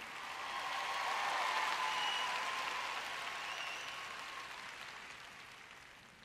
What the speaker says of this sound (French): Vous pouvez applaudir un peu plus fort que ça.